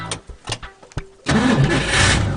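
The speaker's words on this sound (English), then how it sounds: "the tractor started" An old tractor engine cranks in several short sputtering bursts, then catches and settles into a loud, rough, steady running rumble close by.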